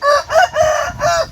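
A fighting rooster gives one loud, close crow, a ringing multi-part call lasting just over a second, heard alone.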